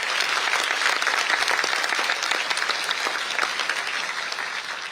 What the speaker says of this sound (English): Huge round of applause for this wonderful performance.